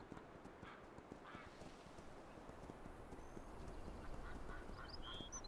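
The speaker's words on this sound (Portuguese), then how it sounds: "Olha os patos aí." Ducks quack faintly in World of Warcraft, a few small scattered calls over a busy backdrop of rhythmic hoof clip-clops from a mount moving along.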